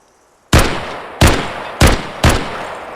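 Four loud gunshots fire in the video game Flex City, spaced roughly half a second apart, each a sharp broadband crack with a short decaying tail, against a quiet background.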